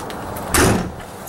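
A 2015 Flagstaff bunkhouse travel trailer door slams shut and latches in a single loud, close thud, with a quiet hum before and after.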